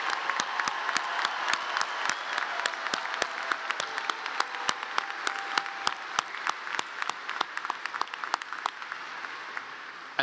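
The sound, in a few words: applause at graduation ceremony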